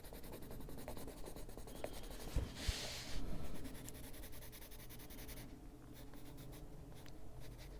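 Colored pencil scratching and rubbing over paper while coloring a rooster, continuous close strokes with a brief louder burst of scribbling midway, no talking.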